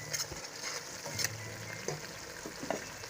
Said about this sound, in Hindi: मसाला हमारा फ्राई हो गया है